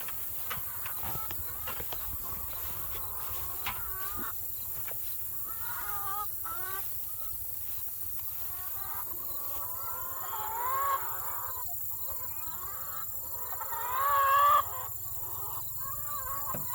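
Many chickens cluck and call steadily over a low background hum, with a couple of louder squawks toward the end.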